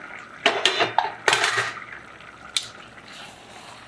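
Metallic clanks and scrapes of a pressure cooker lid being lifted and set aside, followed by a quieter bubbling, sizzling simmer of meal maker tomato rice.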